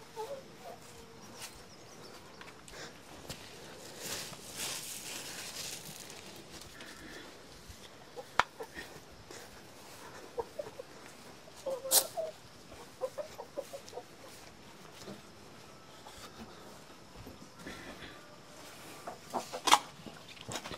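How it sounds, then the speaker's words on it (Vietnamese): Chickens clucking on a rural farm, a few birds making scattered soft clucks and sharper calls across a steady background, moderately close, with no talk. "Thế gà là có hai con này thôi à, Quỳnh?"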